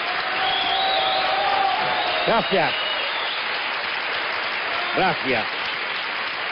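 Audience applause at a live sevillanas performance: steady broad clapping runs throughout, with a voice saying thanks twice over it.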